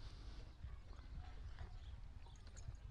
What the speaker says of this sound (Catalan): ensillant aquest cavall